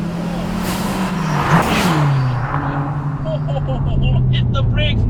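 A turbocharged Subaru WRX STi engine roars at full throttle around 6,000 RPM in third gear on a race track, loud and close, with a steady droning pitch that dips slightly and then holds.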